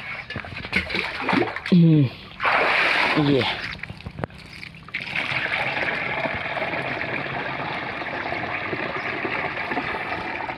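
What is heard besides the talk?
water drawn from a well with a cloth towel and poured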